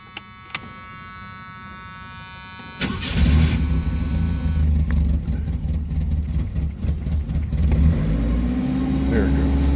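A 1986 Chevy Chevette engine cranks and catches after a couple of clicks, then settles into a loud, steady high idle with a buzzing mechanical drone.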